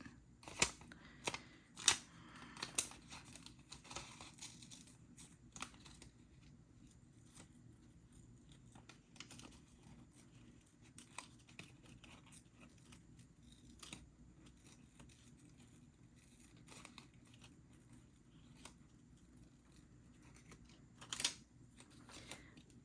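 Scissors fussy cutting around a printed paper piece for a craft project, giving faint, close snips in quick bursts early on, then sparser single cuts over quiet room tone.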